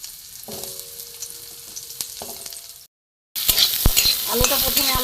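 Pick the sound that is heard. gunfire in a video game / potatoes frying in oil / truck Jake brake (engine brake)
potatoes frying in oil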